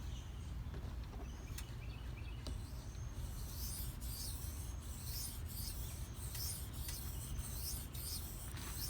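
A Benchmade Mini Barrage knife blade is drawn across a Shapton Pro 1000 grit whetstone, giving a continuous close scraping rasp of repeated strokes, steady and fairly quiet, with no talking.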